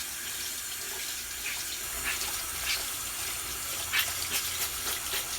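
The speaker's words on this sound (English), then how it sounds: "I'm going to run it under some water." Tap water runs steadily over a sponge into a sink, a soft continuous splashing stream with a few brief brighter spatters, fairly quiet and close, with no talking.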